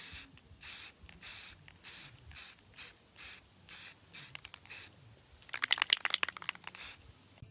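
Black spray paint hisses in short, regular bursts, about a dozen evenly spaced blasts, followed by a rattling burst of the can near the end, sprayed onto a taped-off cabinet.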